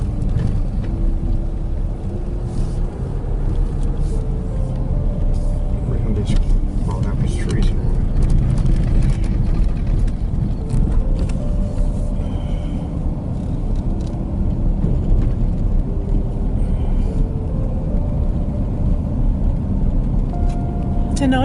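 A car drives along a narrow country road through farmland in Victoria's High Country, giving a steady low engine and road rumble inside the cabin while someone talks over it.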